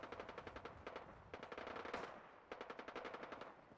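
Automatic gunfire in Fallout 4, rapid bursts of shots in quick rhythmic runs separated by short pauses, moderately distant and without speech.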